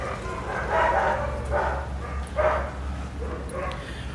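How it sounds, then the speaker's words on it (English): Several dogs bark and yip intermittently in the distance over a steady low background hum in Baguio City, Philippines. "so a lot of dogs"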